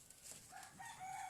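A rooster crows faintly on a farm, with the crow rising and falling over about a second and a half, set against quiet rural background noise.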